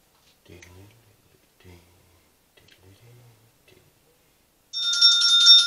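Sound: mobile phone ringtone ringing

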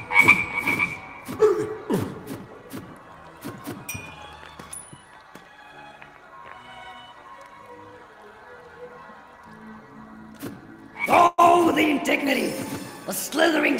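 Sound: swarm of frogs croaking, Waltz of the Wizard video game

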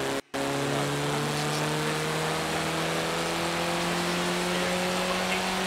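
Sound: car engine revving in a driving video game

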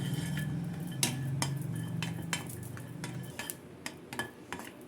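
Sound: curry leaves being roasted and stirred in a pan

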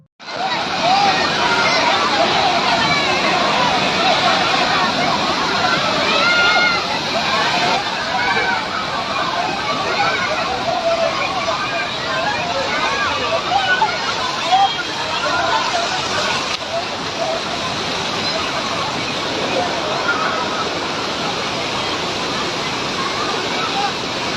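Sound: flash flood rushing down Kuttalam waterfall after rain

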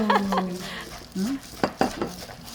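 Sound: dishes clattering as food is put onto a large plate

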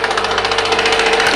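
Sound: fishing trawler engine

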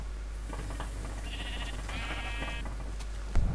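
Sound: pink sheep bleating in Minecraft video game

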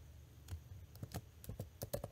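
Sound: typing on a computer keyboard

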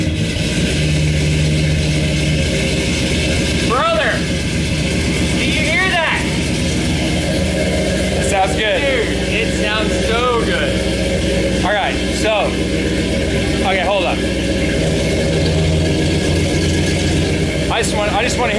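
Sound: EFI 390 engine idling in truck

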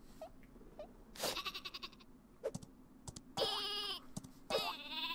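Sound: sheep bleating in video game Worms W.M.D

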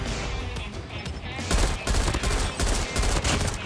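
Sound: gunfire in COD Mobile video game

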